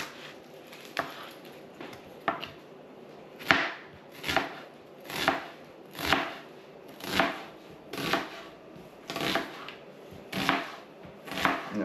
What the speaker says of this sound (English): cut up the ingredients we put in our pot